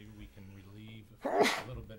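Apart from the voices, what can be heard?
sneeze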